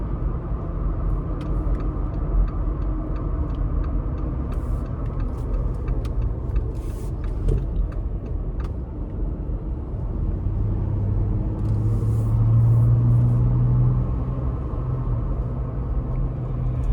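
Steady low road hum and rumble of off-road tires on a 2025 Jeep Gladiator Sport V6 driving on city roads, continuous and fairly loud, with no talking.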